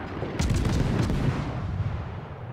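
Gun salvo from an Italian tier-6 premium destroyer, the Leone, in World of Warships: a loud burst of shots with a booming low rumble that dies away slowly over a couple of seconds.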